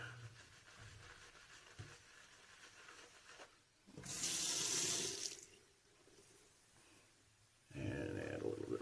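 Water from a tap runs close by to wet a shaving brush. It comes in two short bursts of splashing flow, separated by quieter handling sounds.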